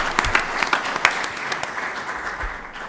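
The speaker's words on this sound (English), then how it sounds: "Let's give the students applause." A school board meeting audience applauds students with steady, dense clapping that holds at an even level for a few seconds.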